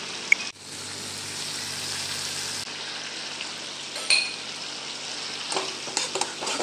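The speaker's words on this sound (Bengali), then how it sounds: "হলুদটাকে একটুখানি কষিয়ে নিচ্ছি" Turmeric and spices sauté in a pan for a fish-head and potato curry, giving a soft steady sizzle with occasional scrapes and clinks of a utensil stirring against the pan, no talking.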